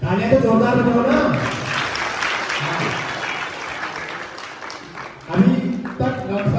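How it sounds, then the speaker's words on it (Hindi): Students and guests clap at a safety awareness event in a government school, with a crowd's applause beneath speaking voices, swelling in the middle and again as talk resumes near the end. "तालियां तो जोरदार बजाओ ना।"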